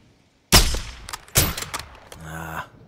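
Sniper rifle shots in the video game Call of Duty: Modern Warfare II, two sharp loud cracks about a second apart with echoing tails and short clicks, followed by a brief mechanical hum after silence at the start.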